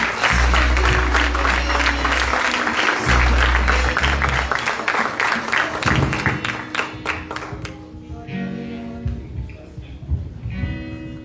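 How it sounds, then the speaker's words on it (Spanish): A church congregation applauding during a worship service, sustained clapping under loud music with a deep bass, the clapping thinning out and fading as the music continues. "con un fuerte aplauso, Señor, le alabamos en esta preciosa mañana"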